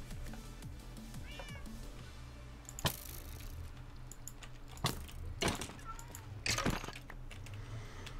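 Cats meowing in Minecraft: several distinct meows rise over a low steady game background, with a few sharp clicks and thumps in between.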